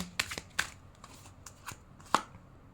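Tarot cards are shuffled close by in a few quick, crisp riffles and slaps, spaced irregularly over a quiet background.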